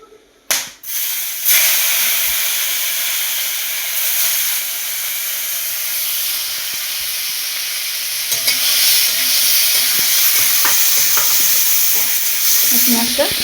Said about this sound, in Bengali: পেঁয়াজটা ভাজা ভাজা হয়ে যাবে